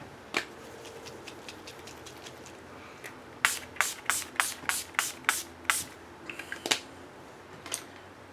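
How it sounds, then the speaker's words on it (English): Rapid short bursts of an aerosol spray, about ten quick hisses in a row, close by, with a few scattered single sprays before and after. "I'm going to do a final spray with my Urban Decay All Nighter"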